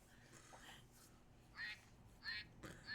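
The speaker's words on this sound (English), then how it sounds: "She's playing with the duck." A squeaky toy duck quacks three times in short bursts while being played with, fairly faint against a quiet room with a low steady hum.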